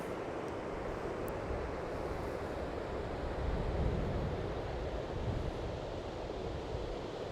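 Waves washing onto Sele Beach under steady wind buffeting the microphone, a continuous rushing surf with a slightly louder swell surge midway.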